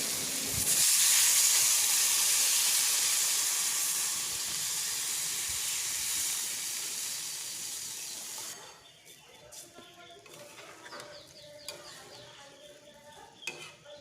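Water poured into hot cooking masala in a pan for Bengali katla fish curry bursts into a loud steaming hiss that slowly fades, followed by quieter clinks and scraping of a utensil stirring.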